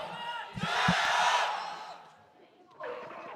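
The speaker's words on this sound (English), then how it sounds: "The crowd here finally having something to smile about, cheer about" A live crowd at a Crossfire esports tournament match roars and cheers in a loud swell that fades, then rises again briefly near the end, with a few low thumps under it.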